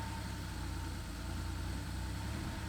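Porsche 964 flat-six idling with a false-air intake leak, a steady dense low rumble with slight uneven pulsing, close and continuous with no voices.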